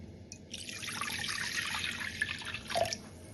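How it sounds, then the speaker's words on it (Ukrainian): Warm water poured into a mixing bowl while making a yeast starter for fried pastry dough, a steady close splashing trickle with a few drips, no talk. "В мисці з'єднуємо воду, вона повинна бути нагріта до теплого стану."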